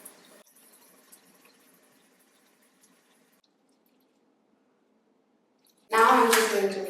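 Running water from a bathroom sink tap, used to rinse cream cleanser off the face, bursts in loud and close near the end after a long quiet stretch with faint drips.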